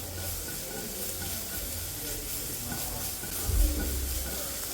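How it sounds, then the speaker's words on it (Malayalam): Ginger garlic paste sizzling in coconut oil for a Kerala pork roast, a soft steady hiss with light stirring and a brief louder bump near the end, no talking. "വെളിച്ചെണ്ണ ഒഴിച്ചു കൊടുക്കാം ഇനി ഇതിലേക്ക് നമുക്ക് ഇഞ്ചി വെളുത്തുള്ളി പേസ്റ്റ് ചേർത്ത് നല്ലപോലെ മിക്സ് ചെയ്തിട്ട്"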